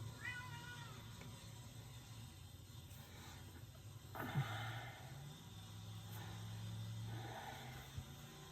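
A kitten meows indoors, with a few faint, thin cries spread across a quiet stretch under a low steady hum.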